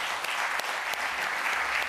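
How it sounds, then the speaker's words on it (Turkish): A studio audience on a Turkish daytime talk show breaks into steady, dense applause, heard for a brief moment at moderate volume. "Hepsine koca bir alkış."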